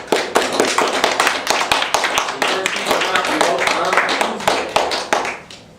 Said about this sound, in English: Perhaps we can end with a round of applause for our candidates.